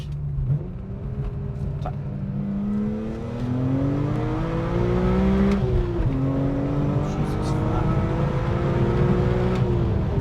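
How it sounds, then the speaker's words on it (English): A supercharged BMW E46 M3 pulls hard under acceleration, its engine and exhaust note climbing steadily in pitch, dipping at a gear change and rising again, heard close from inside the car. "as it gets to like 60, you hear that boosty noise coming out through the exhaust"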